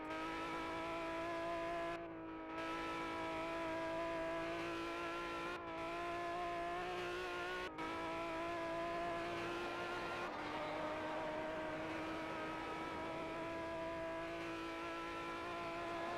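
A race car engine howls steadily at Willow Springs International Raceway in a racing video game, a continuous high-pitched drone with brief dips where the throttle lifts for gear changes or corners, and no talking.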